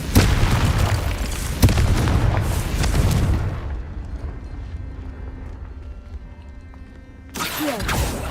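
The Confringo fire spell in Hogwarts Legacy detonates in a loud, booming explosion with a roaring blast that fades away, followed by quieter game ambience and a fresh burst of action at the end.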